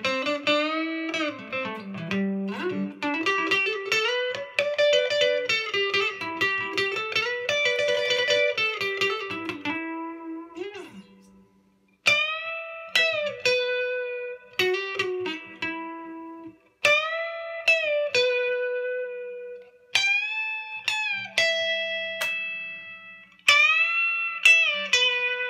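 A white Fender Squier Stratocaster with Seymour Duncan pickups plays a clean melodic line through reverb, with sustained, gliding notes and rhythmic picked phrases, each phrase ringing out and decaying after its attack.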